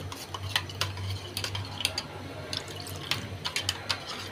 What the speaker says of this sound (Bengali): সামান্য একটু গরম পানি দিয়ে জাস্ট এটা একটু গুলাই রাখবো।